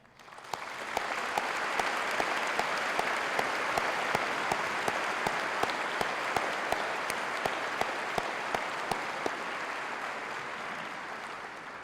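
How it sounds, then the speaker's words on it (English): Sustained applause from a matriculation welcome ceremony audience, a dense steady wash of clapping that holds at an even level for about eleven seconds, with no voices over it. "we show all those folks that did so much work an appreciation with a round of applause"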